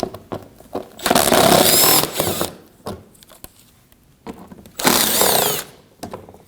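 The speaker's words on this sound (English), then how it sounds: "We'll remove these 2 5mm screws here on the outer edge of the front bumper." A power drill backs out 5mm screws from the lower front bumper valance panel of a 2015-2024 Ford Edge. It gives two loud, close whirring bursts of about a second each, with quiet pauses around them.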